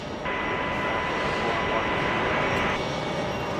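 A jet aircraft takes off from a runway at Brisbane Airport, its engines giving a loud, broad, steady roar that swells in just after the start and continues unbroken.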